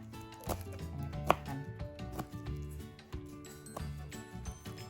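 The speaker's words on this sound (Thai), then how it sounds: "หั่นหอมจ้ะ" Quiet, scattered knife taps on a cutting board as shallots are chopped, heard at a distance over low background hum and music, with irregular timing and one sharper click.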